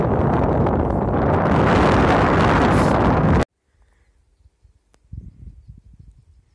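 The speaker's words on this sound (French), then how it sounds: "il y a un vent de dingue" Loud, roaring wind buffets the microphone in the mountains around Pic du Midi d'Ossau for a few seconds, then cuts off abruptly to near silence with faint scattered rustles.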